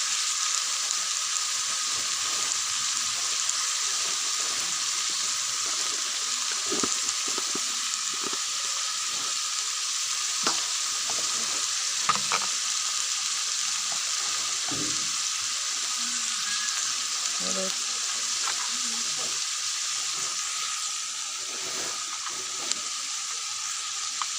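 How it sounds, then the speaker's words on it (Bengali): Chicken pieces fry in hot oil in a home kitchen pan, a steady bright sizzle running throughout while a spatula stirs and scrapes, with soft clinks and shuffles scattered over the continuous hiss. "ভালো করে কষিয়ে নেবো"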